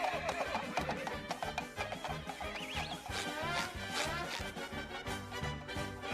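Cartoon horse neighing, a loud, wavering whinny over busy cartoon music and sound effects, with a few hoof-like clops in the background.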